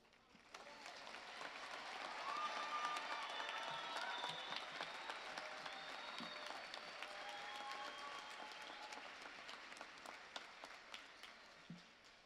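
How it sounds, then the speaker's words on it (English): Sustained audience applause at a 2025 college graduation ceremony, rising to a broad steady roar of many hands, holding, then thinning into scattered claps toward the end, with faint voices mixed underneath. "Let's give them one more big round of applause while they're standing here."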